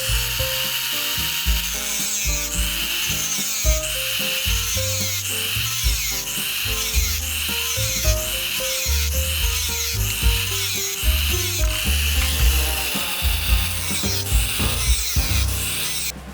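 A hand saw cuts through a 4 m PVC pipe in steady back-and-forth strokes, a loud, close, rhythmic rasping that continues throughout with no voices.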